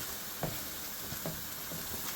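Uncooked prawns frying in a madras curry, a soft steady sizzle with faint stirring clicks and scrapes now and then, quiet and close.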